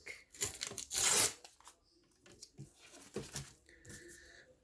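Paper is ripped by hand for craft journaling. One loud, drawn-out tear comes first, then smaller tearing and rustling, close up, with no talk.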